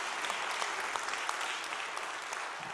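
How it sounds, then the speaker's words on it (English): Church audience at a traditional Sunday service applauds a group, producing dense, steady clapping with a few sharper individual claps standing out, moderately loud and sustained. "give them a round of applause"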